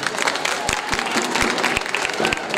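Wedding guests in a hall clapping for the bride, a dense steady round of applause with a few louder individual claps up close, a voice faintly under it.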